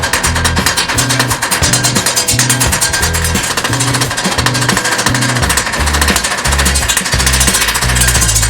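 Rapid mechanical hammer blows pound spring steel from a tailgate spring into a taper for a forged fire poker, a loud, fast, steady pounding rhythm that dominates close up.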